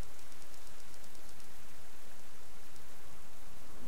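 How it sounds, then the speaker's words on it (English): Steady, dense rain falls in the survival video game Subsistence, a constant hiss with no other sounds over it. "I just need the rain to stop."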